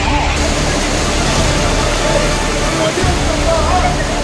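Floodwater after heavy rain in Bengaluru rushes past in a loud, unbroken roar that fills the whole clip, a dense steady wash of water noise recorded up close.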